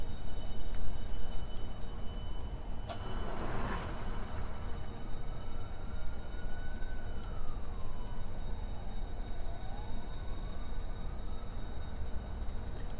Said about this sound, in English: Why do I hear a siren?